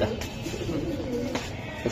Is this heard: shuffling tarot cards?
no